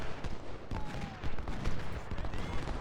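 Musket volleys from Ultimate General: Civil War, a dense crackle of overlapping shots rolling on continuously at mid distance, with a faint voice beneath.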